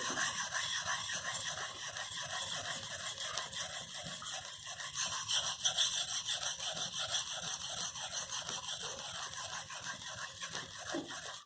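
CPM REX 121 steel is worked across a 600 grit sharpening stone in a fast, even series of gritty rasping strokes, close and fairly quiet, repeating steadily throughout.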